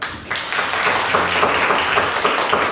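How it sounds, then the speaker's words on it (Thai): An audience at a Thai panel discussion on early photography claps for the speaker, a moderately loud burst of many hands with some individual claps audible, continuing steadily after a brief quiet start. "สียงปรบมือให้นักรบนะครับ"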